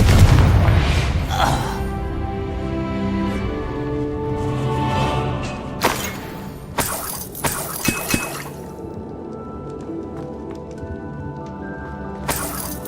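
A Confringo spell blast in the video game Hogwarts Legacy, a heavy booming burst at the start that rolls off into rumbling debris, followed by sharp crackling impacts and shattering bursts over a low musical backdrop.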